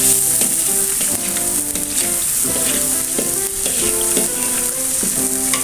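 Water spinach tumbles into half-cooked balado chili paste with shrimp paste in a hot pan, giving a steady, close sizzle that crackles continuously, with stirring scrapes over it and a faint melodic tone underneath.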